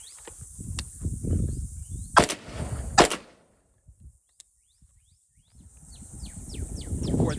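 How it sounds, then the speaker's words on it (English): A suppressed PSA ARV rifle chambered in 9mm fired outdoors, two sharp muffled shots close together, with ringing echoes and birdsong between them, then quiet. "Next, we're shooting the ARV in 9mm."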